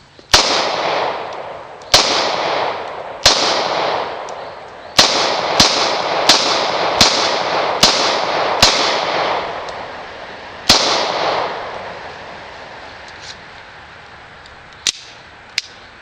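Glock Model 23 compact pistol in .40 S&W firing loud, sharp close shots, first spaced a second or so apart, then a quicker string of about five, followed by a few more scattered shots with ringing decay between them.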